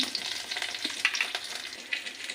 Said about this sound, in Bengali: একটু কালো জিরে দু চিমটে কালো জিরে আর দুটো কাঁচা লঙ্কা এটা একটু গরম হোক